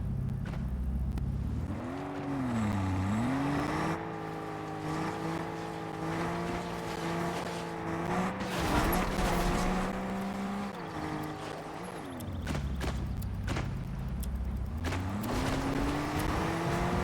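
A car engine drones through a Fortnite match, its pitch rising and falling as the vehicle speeds up and slows, steady and fairly loud with no voices.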